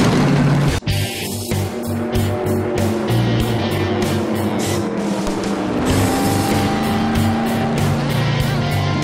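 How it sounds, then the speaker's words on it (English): NASCAR race cars roar past at close range, some 20 to 30 feet away, a loud sustained engine howl with shifting pitch as several cars sweep by in succession, with no talk over the noise. "This sound, that's the whole heart and soul of NASCAR"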